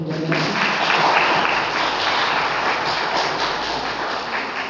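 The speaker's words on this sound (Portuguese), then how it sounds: "uma salva de palmas, por favor" An audience at a motivational talk breaks into applause, a dense, sustained patter of many hands clapping at once, loud and steady for the whole stretch with no talk over it.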